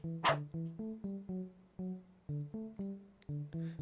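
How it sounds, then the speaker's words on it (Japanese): A dog in a horror video game barks repeatedly in a steady series of sharp, evenly spaced woofs, fairly close and moderately loud, with no talking over it. "こんなに吠えられたの久しぶり。"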